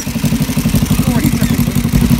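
A carb-balanced motorcycle engine warms up at a close, loud idle, with a rhythmic pulsing thump and light mechanical clatter beneath.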